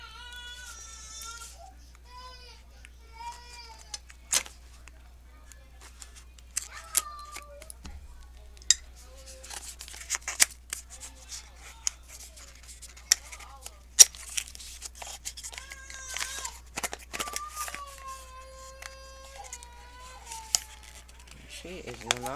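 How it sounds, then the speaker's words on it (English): Cardboard package box of nail polishes torn and cut open with scissors during a small haul unboxing: scattered sharp rips, snips and rustling taps, close and moderately loud, with high whining cries rising and falling nearby. "I opened the wrong end of the box"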